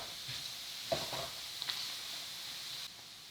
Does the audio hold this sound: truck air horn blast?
no